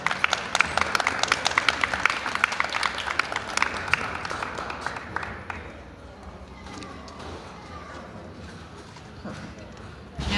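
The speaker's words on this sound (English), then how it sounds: "Let's give Scarlet a big round of applause." An audience claps for the Lakeland Terrier Scarlet Lemons at a dog show, steady crowd applause for about five seconds before it fades to quieter room noise, with a voice talking over it.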